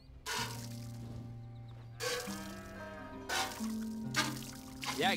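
Milk squirts into a pail while a cow is milked in Red Dead Redemption 2, arriving in three or four separate liquid bursts with short pauses between them, close and fairly loud.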